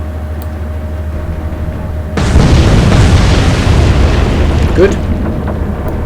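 Naval gunfire from the Atlantic Fleet battle game, opening with a low engine hum before a sudden heavy boom that roars and rumbles on, followed by a second sharper blast, with a brief spoken word.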